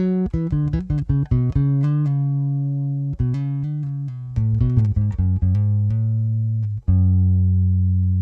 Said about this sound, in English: if we do a minor scale from there, it sounds different, it sounds minor